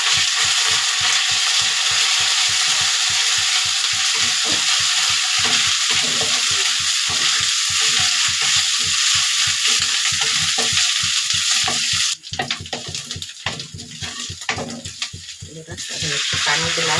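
Ginger and garlic fry in a pan, a loud close sizzle with rapid rhythmic stirring strokes, then a sharper, brief sputtering burst near the end.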